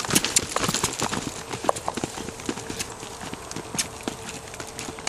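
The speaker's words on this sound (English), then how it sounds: "Trot, and let's go ahead and get the canter." A mustang gelding under saddle trots and then canters on firm ground. Its hoofbeats are close and steady with sharp clip-clop accents, and at one point a rider calls out briefly over them.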